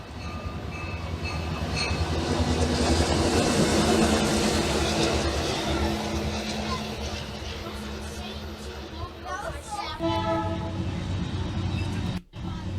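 CSX Q561 freight train rolls past with a BNSF unit leading, a loud, sustained rumble of wheels and cars, then a horn sounding near the end, with a voice talking over it.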